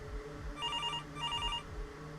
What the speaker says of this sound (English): The sound of that phone ringing had become sickening